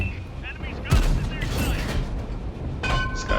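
Tank cannon fire in a combat video game, a few heavy booms with rumbling tails and ringing metallic echoes, set among game noise.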